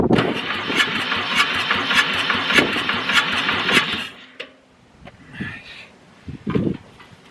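A burnt Ford 4000 tractor diesel engine, abandoned for over twenty years, cranks with a rhythmic chugging churn for about four seconds, then stops, leaving quieter clunks and a brief knock afterward.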